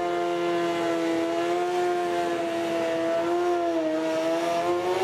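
A super street bike races down a drag strip at a Festival of Power event, its engine a steady high-pitched whine with rising harmonic tones, loud and continuous throughout.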